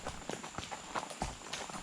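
Small horses carry riders on a guided jungle trail ride to waterfalls in Costa Rica, their hooves making faint, quick, uneven clip-clops for a brief moment.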